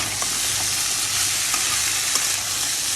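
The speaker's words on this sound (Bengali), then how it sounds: "এখন ভালোভাবে মিক্স করে দিব।" Bitter gourd being stirred and fried with spices in a pan: a steady, dense sizzle with faint scraping as the pieces are mixed, loud and close throughout with no talking.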